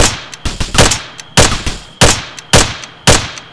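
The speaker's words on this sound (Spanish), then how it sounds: "A mi marca. Disparo y ya." Rifle gunfire in the military shooter game Arma 3: sharp, loud shots in quick uneven bursts, a few cracks close together, then single reports about half a second apart.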